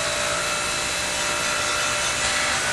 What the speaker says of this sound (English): Clean any rust by using a wire brush.